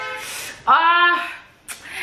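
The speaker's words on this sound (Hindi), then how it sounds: "ये हॉर्न्स क्यों बजाते हैं लोग." A single car horn honks once, loud and close, with a short blip of another horn following, set against a noisy street background.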